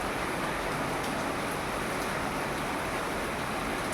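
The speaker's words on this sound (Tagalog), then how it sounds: "Ito ang parang pinakamatagal na ulan." Heavy typhoon rain in Bangued, Abra, a steady unbroken hiss of downpour, moderately distant and constant throughout with no voices.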